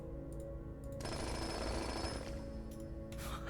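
A jackhammer in the video game Blue Prince rattles in a sustained, gritty burst lasting about two seconds between quieter game ambience, with a faint electronic tone lingering beneath and a brief chime near the end.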